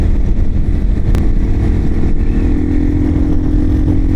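A Kawasaki KLR motorcycle rides along Rampart Range, its engine droning steadily and loudly throughout under wind and road noise, with no clear gear changes.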